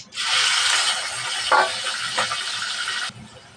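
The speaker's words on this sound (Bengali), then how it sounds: "তেল গরম হয়ে গেছে দিয়ে দেব চিংড়ি মাছ" Prawns hit hot oil in a home kitchen with a loud, steady sizzling hiss lasting about three seconds, marked by a couple of brief crackling bursts, before cutting off abruptly.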